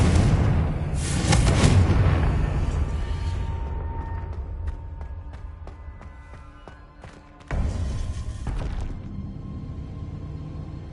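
A Confringo explosion spell in Hogwarts Legacy erupts with a loud, close boom that rumbles and decays, followed by scattered clinking debris and a second sharp blast before fading.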